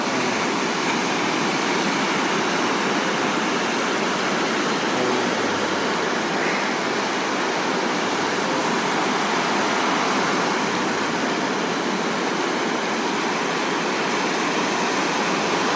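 Rain and surf at Gwangalli beach merge into a dense, unbroken roar of water, loud and steady from start to finish with no talking.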